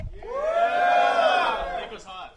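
A room audience at a USC/UCI Open finals esports match gives a short, loud cheer and whoop that swells and fades within about two seconds.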